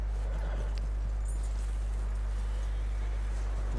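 A horse walks with clip-clopping hooves in the video game Red Dead Redemption 2, its footfalls even and close over a constant low hum.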